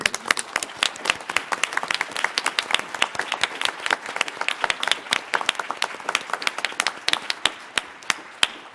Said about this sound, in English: could you stand up so we can give you a round of applause?